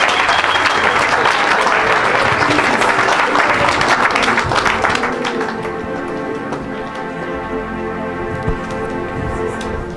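A church congregation bursts into loud, dense applause that fills the room, then thins into scattered claps and taps with a sustained tone underneath, heard up close.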